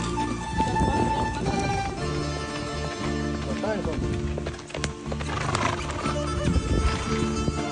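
A mare being ridden at a village farm, with whinnies and clip-clop hoofbeats heard among loud music and people talking throughout.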